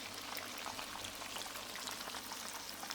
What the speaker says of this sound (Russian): Друзья, мясо жарится.